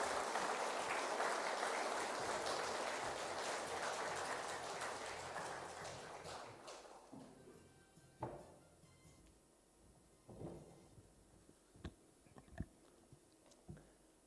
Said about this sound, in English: Let's welcome them with a warm round of applause